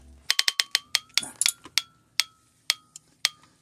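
Ratcheting clicks from a wrench tightening the oil plug on a front axle, a quick burst of sharp metallic ticks followed by slower, spaced single clicks, close and clear with no talking.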